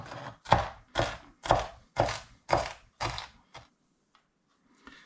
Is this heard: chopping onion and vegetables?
yes